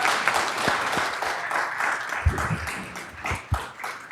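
Audience applause at a Board of Education meeting, a steady round of clapping from a room of people with a few louder thumps near the end.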